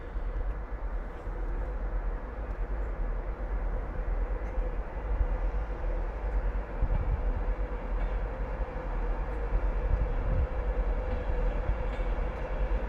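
A Virgin Trains East Coast service led by a Class 82 driving van trailer departing York station for London King's Cross, heard as a steady broad rumble of rolling stock and traction that holds level throughout.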